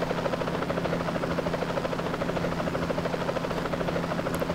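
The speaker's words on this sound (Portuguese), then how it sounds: "Fora esses helicópteros, vai ter outros helicópteros voando para lá e para cá." A helicopter flying in a GTA São Paulo video game mod, its rotor beating in a steady, even chop with a constant engine hum, moderately loud and heard alone.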